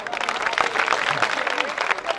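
Applause from the audience at a Hindi poetry gathering, an all-India kavi sammelan where a ghazal is about to be recited, steady and fairly close for a couple of seconds, with a voice showing faintly through it.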